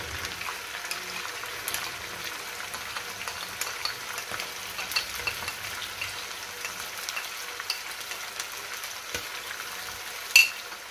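Onion paste made from two blended onions goes into frying chicken for Hyderabadi khati chicken, giving a steady, close sizzle with stirring and a sharp clink near the end.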